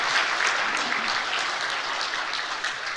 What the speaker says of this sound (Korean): 박수로 한 번 더.